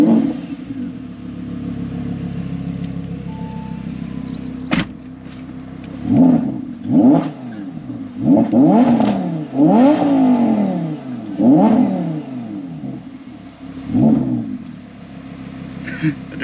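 A 650 hp Audi R8 V10 Spyder with an ASG exhaust starts with a sharp crack, then idles and gets revved in repeated loud, close bursts; a voice speaks at times between them.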